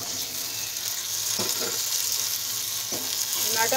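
Onions and tomatoes frying in a pan make a steady close sizzle, with a couple of brief stirring scrapes partway through and no voices.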